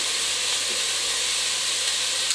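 Chopped onions sauté in a hot pan for a lentil soup, giving a constant, close, fairly loud sizzle and hiss with no other sounds.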